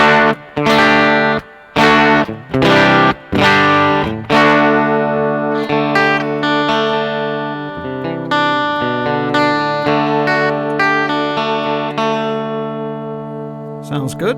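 Electric guitar played through a NOTADÜMBLË pedal set to boost: loud, bright strummed chords at first, then ringing sustained notes and picked lines that slowly fade, alone with no voice.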